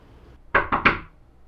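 Three quick, firm knocks on a door ring out close and clear, evenly spaced, against a quiet room.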